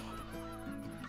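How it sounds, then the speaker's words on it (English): A Canada goose in the hunting video game Call of the Wild gives a short, nasal, harmonic honking call that is clear and close, with no talk over it. "We have the Canada goose in the game now"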